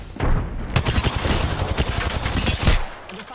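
Loud, close bursts of rapid gunfire in a first-person shooter game, dense overlapping shots and a few heavier booms filling the whole stretch.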